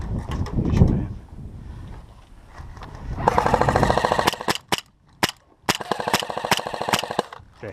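Airsoft guns firing outdoors during a team skirmish, sharp cracking shots in rapid bursts and single pops, some close and loud, with a rumbling muffled stretch before them.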